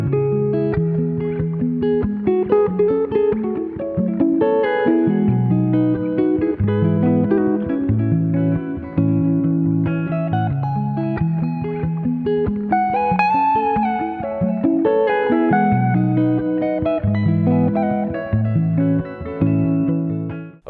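An original instrumental tune plays through effects, with a melodic line and chords sustained under reverb and distortion, steady and close with no talking.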